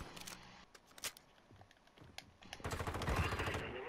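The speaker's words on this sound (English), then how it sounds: "There's a guy shooting through here." Gunfire in Modern Warfare 2, played in third person: quick bursts of automatic weapon fire and scattered single shots, rising into a heavier sustained volley near the end, fairly quiet overall with faint game sounds between.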